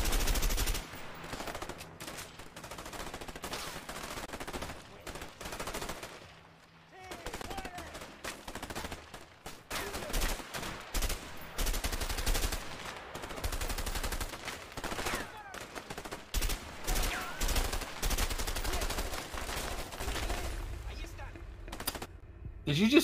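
Gunfire in the video game A Way Out, repeated loud shots and rapid bursts in clustered volleys with brief lulls, mixed with game sounds and occasional talking.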